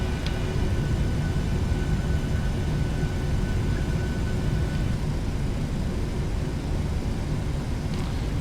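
A jet airliner taxis at about 30 knots at Sydney airport in Microsoft Flight Simulator X, giving a steady, loud engine roar and rumble that stays constant throughout with no one speaking.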